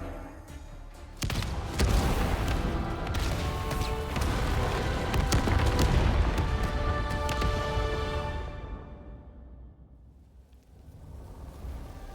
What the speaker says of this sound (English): I heard that explosion from here.